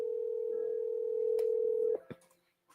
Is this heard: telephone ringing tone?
yes